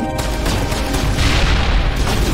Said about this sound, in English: Nice grenade there.